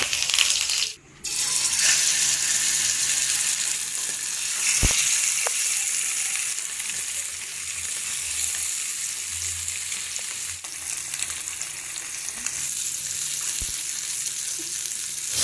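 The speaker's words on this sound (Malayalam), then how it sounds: "ഇനി എണ്ണ ചൂടായിട്ടുണ്ട്, നമുക്ക് കുറച്ച് കറിവേപ്പില ഇട്ട് കൊടുക്കാം." Curry leaves dropped into hot oil in a pan crackle and sizzle loudly and steadily at close range, with a brief dip near the start and a few sharp pops.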